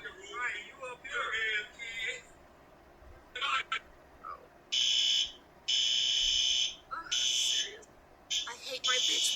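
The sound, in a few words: fire alarm going off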